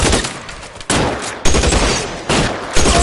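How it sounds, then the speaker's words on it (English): Loud, close gunfire in an L.A. Noire shootout comes as repeated bursts of shots in quick succession, each cluster cutting sharply in. "Lay down some covering fire."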